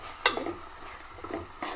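Mutton keema is dry roasted in a pan with salt, chilli, turmeric, ginger, garlic and oil. A couple of scraping stirs sound over a faint sizzle.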